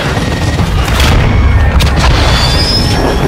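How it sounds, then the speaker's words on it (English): A cruise missile strike in the Call of Duty video game Mosh Pit mode, a loud, sustained rumbling boom with crackling blasts that fills the whole stretch. "Cruise missile inbound."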